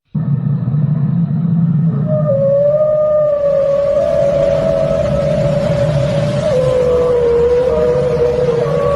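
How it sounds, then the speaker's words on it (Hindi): A blue whale gives a long, deep moaning call underwater, a loud sustained tone that slides slowly over a low rumbling drone for several seconds, heard without any talk. "एक छोटे कार शेप की दिल वाली ये मछली 188 डेसिबल तक दहाड़ती है"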